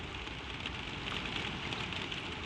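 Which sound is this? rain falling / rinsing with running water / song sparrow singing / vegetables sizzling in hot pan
rain falling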